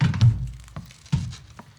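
A ball bounces in a TV drama scene, a few dull thuds at uneven intervals, close and fairly loud with a quiet background.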